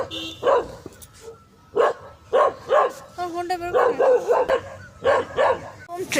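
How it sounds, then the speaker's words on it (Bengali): A dog barks repeatedly at a hill viewpoint in Kurseong, near and loud, a string of sharp woofs and yips in uneven bursts. "একটা কুকুর ঘেউ ঘেউ করছে"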